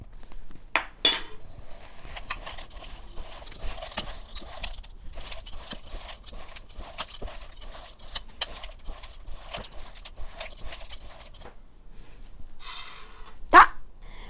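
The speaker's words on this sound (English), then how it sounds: "now stir that all together" Chocolate coconut oatmeal cookie dough stirred by hand in a bowl, a spoon knocking and clinking in irregular bursts at close range with soft scraping in between, one sharper clack near the end.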